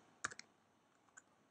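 A few sharp clicks of keys, a quick cluster then a lone tap, quiet and close with near silence between.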